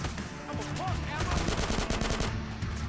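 Enemy gunfire in GTA: San Andreas rattles on steadily as rapid repeated shots under game sound and a talking voice, loud and continuous for a few seconds.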